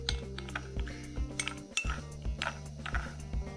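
Cream is mixed with oils and vitamin E gel in a small bowl, a spoon tapping and clinking against the sides in a quick, regular rhythm, close and fairly loud.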